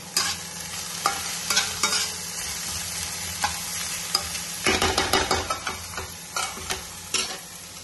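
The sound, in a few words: frying onion, capsicum, carrot and chilli in a pan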